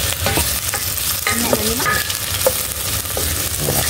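Ginger and tomatoes frying in a pan while being stirred, a loud continuous sizzle with scraping utensil strokes and occasional clinks, near and without talk.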